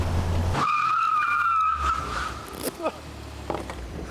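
A car's tyres squeal in a long, high, wavering skid during a test drive, loud and close for over a second, followed by engine noise and a few thumps.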